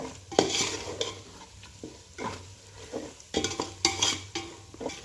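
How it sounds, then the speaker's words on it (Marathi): Malvani and biryani spice powders frying in oil, with a close spoon stirring and scraping the pot in bursts over a low sizzle, no talking. "आता हे मसाले छान तेलामध्ये परतून घ्यायचे"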